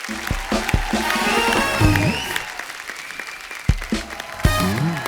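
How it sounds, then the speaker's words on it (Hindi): An audience breaks into loud, sustained applause, with scattered cheers and a few raised voices mixed in, fading and swelling in waves. "जोरदार तालियां"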